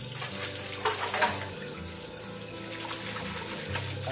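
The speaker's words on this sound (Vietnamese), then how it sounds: "xả nước rửa kỹ vào" Tap water runs steadily into a sink while dishes are washed, making a continuous close splashing stream with a few faint clinks and no voices.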